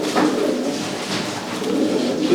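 Pigeons coo softly and repeatedly nearby, low throaty murmurs overlapping in a continuous, gentle rumble.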